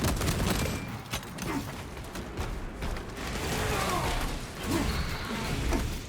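Heavy gunfire in Warhammer 40k: Space Marine 2, dense overlapping bursts and impacts filling the whole stretch, loud and close, with crashes and mechanical clatter mixed into a chaotic battle din.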